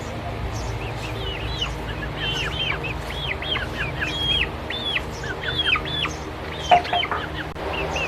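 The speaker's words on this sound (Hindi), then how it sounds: "ये हमारा चौथा मुर्गा है, ये भी देखिए कितना अच्छा है" Roosters cluck and chirp in short repeated calls over a steady low background hum, fairly close and moderate in volume, with no speech.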